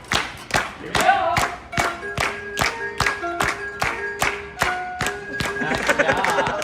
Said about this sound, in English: All right, everybody start clapping along.